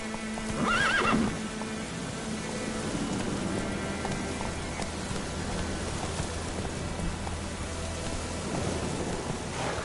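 Roach the horse in The Witcher 3 video game gives a loud whinny near the start, and hooves clip-clop steadily through the rest, with rain pattering in the background.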